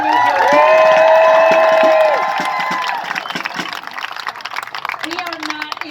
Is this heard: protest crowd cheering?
yes